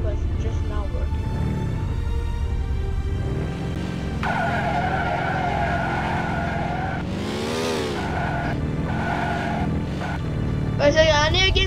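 Car engine drone and repeated tire screeches from a driving sandbox video game set in a zombie-filled city, with rising and falling engine pitch and a sharp squeal near the end, under occasional talk.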